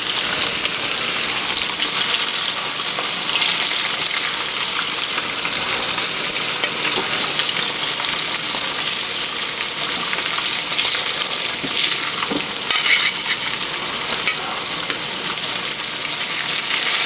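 Catfish frying in a pan, a steady dense sizzle and crackle of hot oil running loud and continuous throughout, with occasional sharper pops and no talking.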